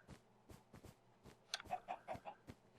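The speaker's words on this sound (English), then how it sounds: "Shut up, chicken. Nobody wants to hear from you, ever." A chicken in the Minecraft video game clucks in a series of short, quiet, rhythmic bursts that grow busier toward the end.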